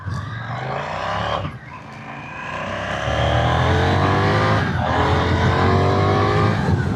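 A KTM 990 Duke R motorcycle engine drops off sharply as the bike makes a full emergency stop, then revs back up and pulls away loudly with rising gear whine.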